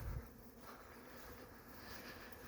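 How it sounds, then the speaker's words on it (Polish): Honeybees in a backyard apiary in late October flying busily around the hive entrances, a soft continuous buzzing hum close by, steady and low throughout with a brief louder rumble at the start. "pszczoły pracują, latają"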